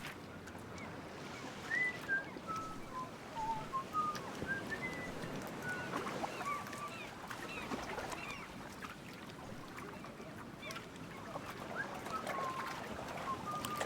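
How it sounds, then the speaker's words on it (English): A character whistles in Book of Travels, a few faint high gliding whistle notes over an outdoor ambience of wind and water. "And I can whistle."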